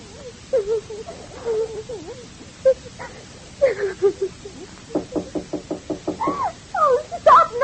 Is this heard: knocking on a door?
yes